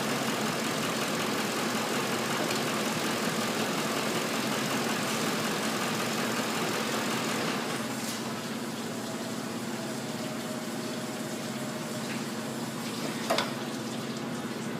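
A Ford car engine idles with a steady low drone during a coolant flush, a faint click near the end.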